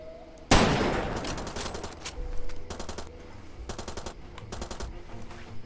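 Payday 2 gunfire opens with one loud blast, then bursts of rapid automatic shots in short volleys, fairly close and sharp over game noise, with no talking.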